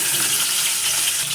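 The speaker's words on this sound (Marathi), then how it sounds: "कढईत तेल तापत ठेवलंय, मोहरी टाकून घेतली. चला वांगी टाकू आता" Stuffed white eggplants hit hot oil and mustard seeds in a kadhai, giving a loud, close, continuous sizzling hiss that fills the whole short moment, with no talking.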